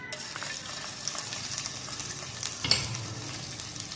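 Ginger and garlic paste fries in a tablespoon of oil in a pan with a steady close sizzle and occasional stirring scrapes.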